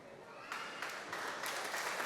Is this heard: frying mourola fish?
no